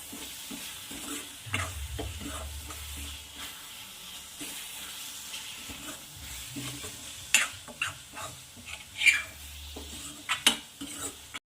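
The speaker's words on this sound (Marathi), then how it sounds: "छान असं हलवत राहायचं आहे खूप सुंदर सेंट सुटला आहे" A spoon slowly stirs fresh red chilli and garlic thecha in a hot pan, giving a soft sizzle with scattered scrapes and sharp clinks of the utensil against the metal, fairly quiet and close.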